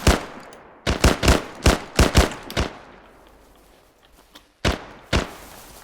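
Gunfire in ArmA comes as a tight burst of about eight loud, sharp shots, then a short lull and two more close reports, each with a brief echoing tail; no talking.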